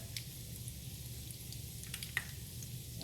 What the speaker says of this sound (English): it seems to be frying up pretty good.